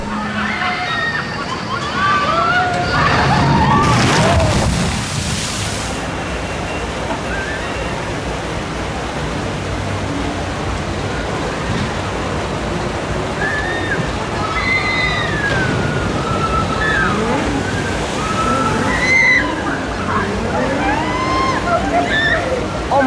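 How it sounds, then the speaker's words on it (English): Water splashes and rushes over riders on a speed water coaster at the Energylandia theme park, a loud continuous roaring wash with a bigger surge early on, under voices and screams. "Footage there from the spectacular speed water coaster here at Energylandia."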